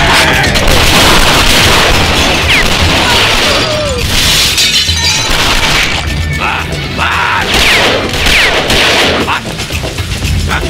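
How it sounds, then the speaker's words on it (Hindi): Gunfire effect from a Hindi-dubbed action movie, loud dense bursts of shots with shattering and booming impacts, continuous and up close, with brief voices in the mix. "इतनी फायरिंग हो रही थी"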